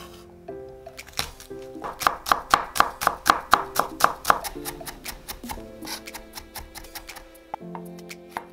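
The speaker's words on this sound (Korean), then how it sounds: "통마늘 3개는 다져주고" A knife minces three whole garlic cloves on a cutting board, making a rapid run of close, crisp chops in a steady rhythm, with soft background music underneath.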